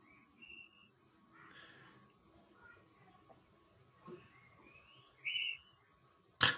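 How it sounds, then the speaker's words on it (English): Two birds give short, thin whistled calls one after another in a quiet nocturnal migration recording, faint and distant over a hiss of background noise, ending in one sharp click. "And then you've got the two birds calling."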